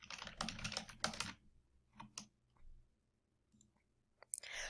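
Keys clicked on a computer keyboard as a school name is entered into a college application search box, a quick flurry of taps followed by sparse isolated clicks and a short final burst.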